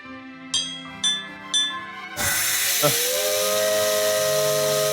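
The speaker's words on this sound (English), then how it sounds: "A proud voice, the sound of a bell, and the steam whistle always down together." Three clear bell rings, then a long, loud steam hiss with a whistle-like tone from a steam train in the video game Maitetsu, the hiss holding on to the end.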